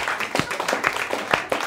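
Crowd at a comedy club show clapping in response, a short burst of scattered applause with a voice over it.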